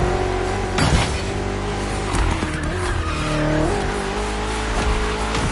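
A BMW M CS racing in an open-world driving game, its engine droning steadily with sharp tire squeals and skids as it corners, loud and close throughout.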